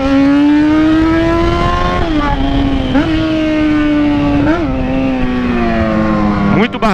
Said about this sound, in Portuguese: o barulho da minha moto